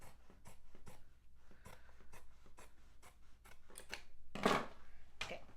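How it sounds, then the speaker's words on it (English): Scissors cut through satin faux leather with quiet, steady snipping and rasping strokes, close and soft, with a brief louder rustle near the end and no voices. "I'm going to cut out what we need and get my scissors."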